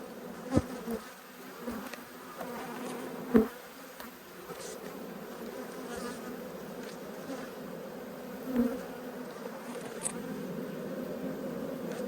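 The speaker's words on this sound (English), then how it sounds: "very, very similar frame, a lot more bees on this one" A dense, steady hum of many honeybees buzzing on a hive frame close by, with a few individual bees droning louder as they pass near.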